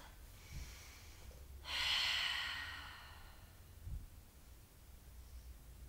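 A single full breath during a Pilates floor stretch, a soft breathy exhale rising and fading over about a second, faint against quiet background hiss, with no speaking.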